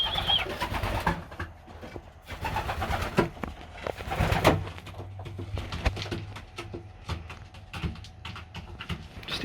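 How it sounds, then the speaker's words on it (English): A young pigeon squeaks repeatedly to be fed in a dusty loft, with soft coos and scratchy rustling close by. "I can hear you squeaking, trying to get Dad to feed you."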